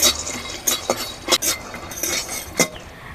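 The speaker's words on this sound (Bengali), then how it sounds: "বাদামটাকে ভালো করে ভেজে নেব" Peanuts dry-roasting in a pan are stirred with a utensil, giving a constant gritty rattle and hiss with repeated sharp clinks and scrapes against the pan, close and fairly loud.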